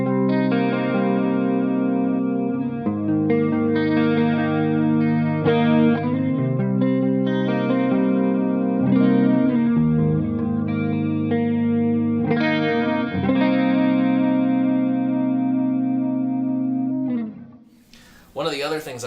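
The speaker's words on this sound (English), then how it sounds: "Now I'll play that same part with my main clean sound with a little bit of added chorus." A clean electric guitar with a little added chorus, played through a Pigtronix Philosopher's Tone compressor, plays a sustained, evenly leveled part of ringing chords and notes for about seventeen seconds, then stops with a short noisy scrape at the end.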